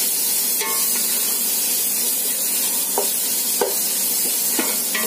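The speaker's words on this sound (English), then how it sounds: "we are frying the onions for 5 minutes." Onions fry in a pan for a homemade Kerala egg biryani, a loud steady sizzle with occasional clicks of stirring, and no voices.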